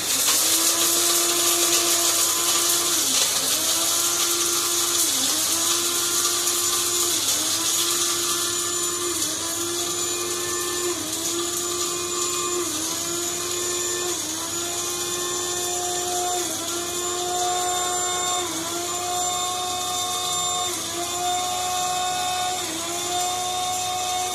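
A mixer grinder whirs loudly as it grinds chillies, a high, steady motor whine with a regular pulsing rise and dip as the contents tumble, running continuously with no talk.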